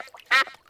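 A cartoon duck quacks once, loud and close, in a duck pond in Peppa Pig, framed by faint quieter sounds before and after.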